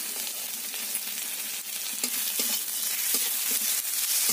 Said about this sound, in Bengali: রসুনটা পেঁয়াজের সঙ্গে ভালো করে ভেজে নেব।